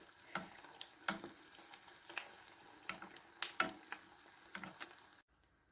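Belyashi dough crackles and pops in hot oil, a steady soft sizzle with sharper spits scattered throughout, close by, stopping abruptly near the end.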